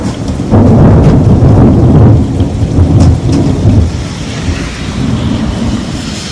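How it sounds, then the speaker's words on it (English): A loud thunderstorm over a river setting pours heavy rain with deep rolling thunder rumbling through, the downpour continuous and close throughout. "let's wait for this storm to go through"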